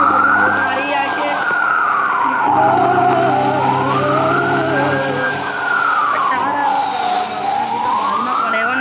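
Police car siren wailing in long rising and falling sweeps during a chase in the video game Crime Simulator, loud and up close over steady engine drone, with tyre skidding mixed in.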